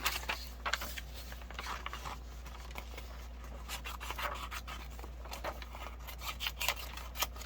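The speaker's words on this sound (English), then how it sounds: "we can cut one of the pictures out and have it ready" Scissors cut a printed photo out of a sheet of paper, making close, quiet, intermittent snips and papery rustles in an irregular rhythm.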